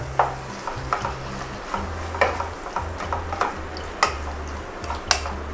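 Marinated chicken is stirred into a hot pan of Hyderabad-style chicken masala, giving a steady low sizzle with repeated scraping and clinking of a spoon against the pan, close and without talk.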